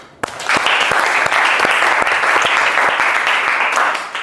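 A classroom of students applauding during a Hindu religious education lesson, steady close clapping starting abruptly and continuing evenly for about four seconds.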